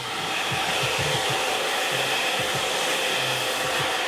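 A hair dryer blows steadily on a man's medium-length hair, a loud continuous whoosh with faint low mechanical flutter underneath and no talking.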